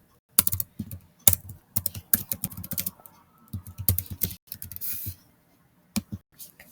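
Keys clatter on a computer keyboard in irregular quick bursts of taps with short gaps, close and crisp, while code is entered for a beginner Python lesson.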